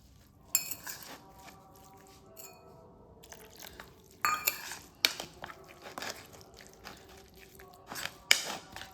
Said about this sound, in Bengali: খুব ভালোভাবে মিশিয়ে নিচ্ছি